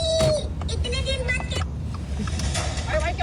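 Busy road traffic crawling in a jam after an accident, with a steady rumble of car and bus engines and scattered horn-like tones, a voice talking over it throughout.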